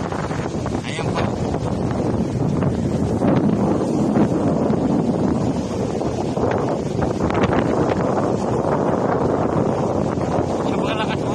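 Heavy wind buffets the microphone continuously by the sea at Calatagan, Batangas, a steady rushing roar with faint voices and sea noise underneath.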